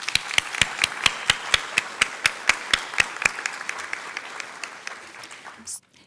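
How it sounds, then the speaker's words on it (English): Applause from the audience at the 2019 Lamoille North Supervisory Union spelling bee: a few loud, evenly spaced claps up front over a wider crowd clapping, fading out near the end. "I'd like to give you all a round of applause."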